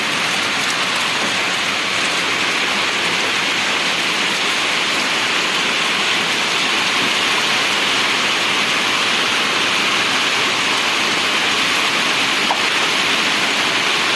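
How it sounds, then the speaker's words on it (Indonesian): Afternoon rain pouring steadily over a plantation garden with green oil palms, a dense, unbroken hiss of downpour on foliage and surfaces, loud and close throughout. "Sampai diguyur hujan lagi."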